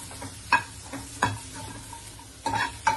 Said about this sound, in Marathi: सगळं भाजून मी हा कांदा पण भाजून घेते आता